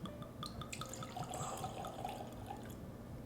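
Bourbon poured from a bottle into a glass on a desk, a soft steady trickle and splash of liquid that runs for a few seconds.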